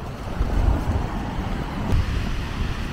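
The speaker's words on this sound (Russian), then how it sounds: "Штормит немножко море, волны появились," Stormy sea waves and strong wind roar steadily on a beach in Turkey, a dense, continuous rumble and hiss with no voices over it.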